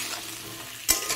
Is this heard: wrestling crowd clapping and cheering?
no